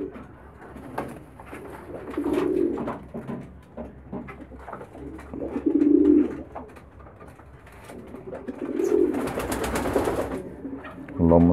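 Young homing pigeons in Damietta, Egypt, coo in soft, low repeated phrases, with several bursts spread through the clip and a brief rustle or flutter near the end.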